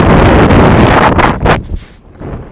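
Strong wind gusts across the microphone outdoors near Jelgava, a loud roaring rush that surges in waves and then eases toward a quieter stretch, with no talking.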